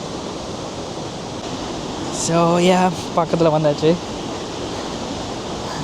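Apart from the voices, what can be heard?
High Force waterfall rushing water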